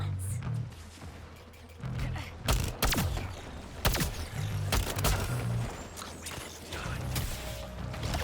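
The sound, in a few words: gunfire in the video game Suicide Squad: Kill the Justice League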